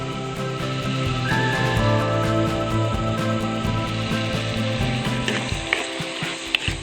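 Sliced onions and curry leaves sizzle steadily in hot oil for a Kerala-style soya bean curry, a close, continuous frying crackle with a few stirring clinks toward the end.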